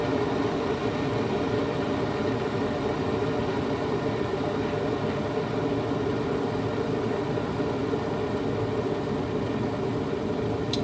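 A COMFEE' stainless steel cordless electric kettle heats water toward a boil, giving off a steady, continuous low rumbling hiss that stays even throughout at close range.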